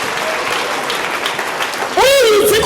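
A church congregation applauds for Jesus during a sermon, a dense, steady round of clapping, with a preacher's voice rising loud over it near the end.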